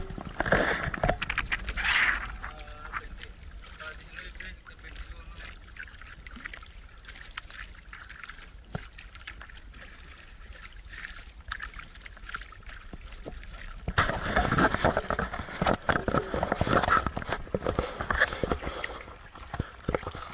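Small boat paddled off Lamanok Island, Bohol, with soft water splashes and trickles from the paddle strokes, busier and louder at the start and again near the end, calmer in between.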